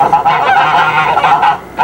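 Geese honk loudly and close by in a continuous run of harsh, nasal calls, with several quick bursts that overlap and no voices over them.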